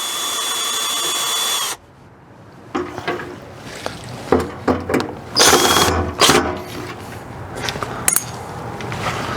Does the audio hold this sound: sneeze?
no